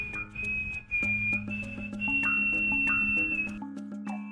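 A high, bright whistle sounds in sustained, wavering tones over a layered musical backdrop, close and prominent, then breaks off near the end.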